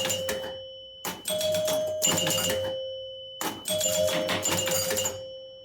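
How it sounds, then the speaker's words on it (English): An Abra Ca Dabra pinball machine fires its knocker amid ringing chime tones and mechanical clatter, arriving in several loud bursts separated by short silences. "You can hear the knocker."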